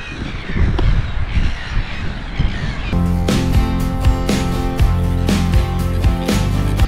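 Seagulls calling by the water on the Australian coast: harsh, repeated squawks and caws over steady waterside noise, loud and close, continuing without pause.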